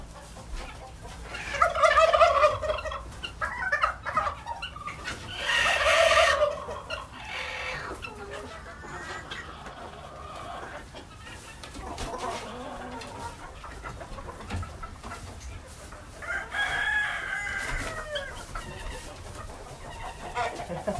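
Chicken breed often mistaken for a turkey-chicken mix, on a farm, gives loud gobbling clucks in a few bursts early on and a later shorter call, with quieter rustling and handling noise between.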